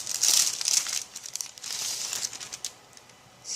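Small plastic packaging bag from a scrapbooking kit crinkled open up close, a few loud bursts of crackly rustling with short pauses between them.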